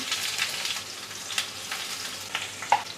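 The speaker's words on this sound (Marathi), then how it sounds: "आता यामध्ये आपण राई घालूया, जिरं, त्यानंतर कढीपत्ता आणि थोडीशी हिरवी मिरची बारीक चिरलेली, ठेचलेला लसूण" Mustard seeds, cumin, curry leaves, finely chopped green chilli and crushed garlic tempering in hot oil, giving a bright, steady hiss and crackle with occasional sharp pops and light stirring, close and without speech.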